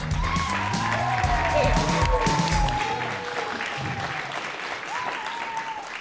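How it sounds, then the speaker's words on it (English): Loud crowd applause with some cheering for the judges at a cookie baking competition final, mixed with music and a voice at first, then fading to lighter clapping. "Let's give them all a big round of applause."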